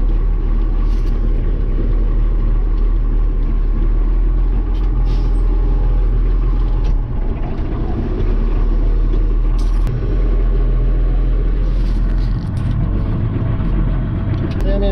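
Heavy Fortschritt ZT323 tractor engine driving while ploughing a field for potatoes, a steady loud low diesel rumble throughout with a few brief clanks and hisses on top.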